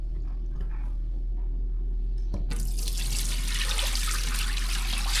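Water draining from three pounds of thawed oxtail into a sink, quiet at first, then a sudden rush of running, splashing water that holds steady to the end, with no talk.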